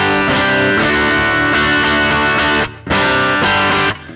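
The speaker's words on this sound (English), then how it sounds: "electric line, we have an overdrive, an amping cab, a delay, and reverb" Overdriven electric guitar chords through an amp and cab model, delay and reverb on a Helix HX Stomp, ring out with echoing delay and roomy reverb, loud and continuous, with a brief gap before the final strums.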